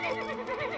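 A cartoon horse whinnies in a short, close, wavering neigh, the call rising and falling in repeated bursts under a light musical background.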